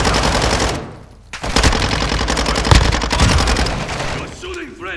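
Heavy automatic gunfire in Call of Duty Warzone 2.0 during a fortress fight, with loud overlapping bursts and sharp shots filling most of the stretch, a brief lull near the start, and voices shouting over the shooting.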